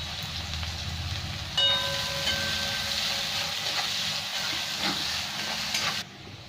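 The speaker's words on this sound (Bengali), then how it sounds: "এই পেঁয়াজটা একটু লাল লাল করে ভেজে নেব" Sliced onion for a Bengali rui fish curry fries in hot oil, a continuous bright hiss and sizzle that jumps louder partway through, then cuts off near the end.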